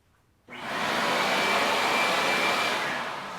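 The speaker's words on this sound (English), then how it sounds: "I could turn off and on my vacuum" A shop vacuum, run from a Milwaukee wrist remote, kicks on abruptly and roars loudly and steadily at close range before beginning to ease off at the end.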